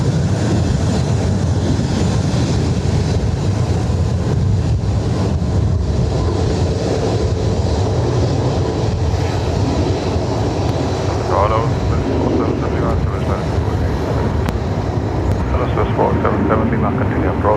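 A Boeing 737-800 airliner passing at Dublin Airport, a loud continuous jet roar with heavy low rumble and wind buffeting, with a voice briefly heard partway through.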